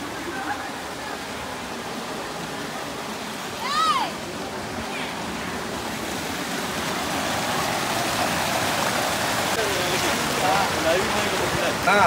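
Steady rushing flow of a stream near Sitraruvi waterfall in the Kolli Hills, a broad continuous wash of water with a short voice and faint chatter briefly over it.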